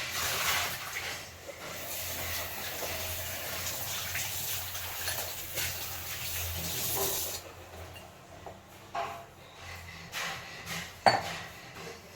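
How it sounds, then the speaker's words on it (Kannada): A flat tawa griddle pan goes onto the stove while plantain curry is being cooked, with metallic clanks and knocks of cookware over a faint hiss and one sharper clatter near the end. "ತವಾ ಇಟ್ಬಿಟ್ಟು ತವಾದಲ್ಲಿ ಸ್ವಲ್ಪ ಆಯಿಲ್ ಹಾಕ್ಕೊಂಡಿದ್ದೀನಿ"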